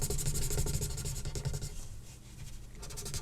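Felt tip pen colouring on paper in a comic-style drawing, close, quiet scratchy strokes in a quick repeated rhythm, alone.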